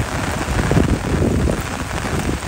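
Heavy monsoon rain pours steadily in rural Konkan, a dense, loud, continuous hiss of drops drumming on surfaces with no voices present.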